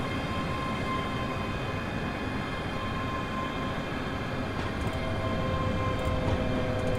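Simulated train running on the Glasgow to Dunblane and Alloa route in Train Simulator Classic, a steady rumbling rail drone with faint high whines, continuous and fairly loud with no talk.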